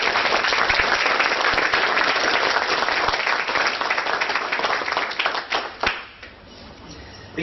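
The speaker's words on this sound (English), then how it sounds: "So please give a big round of applause." Big round of applause from a live audience, dense steady clapping at full strength for about six seconds, then thinning out and fading to scattered claps near the end.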